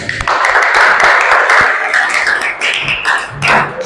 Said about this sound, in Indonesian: Untuk kelompok 4 berikan tepuk tangan.